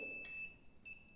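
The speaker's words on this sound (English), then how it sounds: "it beeps when I put this in front" A small 9-volt battery-powered student project device gives two short, faint electronic beeps, evenly spaced about half a second apart, in an otherwise quiet space.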